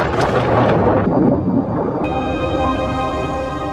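A film explosion involving the sea monster Kraken: a loud, deep rumbling blast that rolls and fades into a sustained low roar with ringing tones layered over it.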